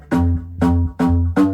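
Four evenly spaced hits, each a sharp, bright clap sample with a strong transient layered over a short, tonal instrument note, played alone with no talking.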